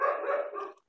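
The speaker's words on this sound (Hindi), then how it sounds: "एक कुत्ते भौंक रहे हैं।" A dog barking in a residential neighbourhood, one short, fairly close bark standing alone.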